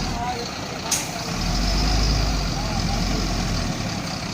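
A heavily laden tractor with a tall load rumbles closer along a narrow road. Its low engine drone swells and holds steady under nearby voices, after a brief hiss early on.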